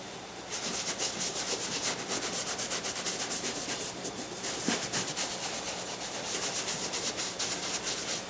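Cloth rubs conditioner into leather cowboy boots with fast back-and-forth strokes, a continuous close scratchy swishing in a steady rhythm.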